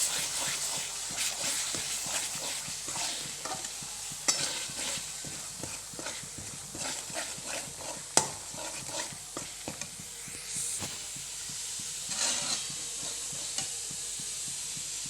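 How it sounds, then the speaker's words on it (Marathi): Pav bhaji masala being stirred in a pan, a low background sizzle and hiss broken by frequent scraping and tapping strokes of a spoon, with one sharp knock midway. "आता आपण पाव पावभाजी मसाला टाकणार आहोत मसाला चांगला हलवून घ्यायचा"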